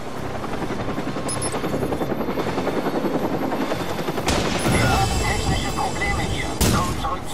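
A helicopter's rotor chops steadily up close beneath bursts of gunfire and battle noise in the video game Watch Dogs, with a loud blast swelling near the end.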